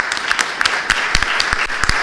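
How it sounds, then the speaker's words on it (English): An audience at a panel discussion event on patient privacy applauds, a dense, steady patter of many hands clapping close by with sharp individual claps standing out. "another round of applause for the great panel"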